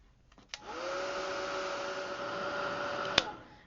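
A heat gun heat-sets alcohol ink on a panel, switching on after a couple of clicks into a steady, close blowing whir with a faint tonal hum, then clicking off at the end.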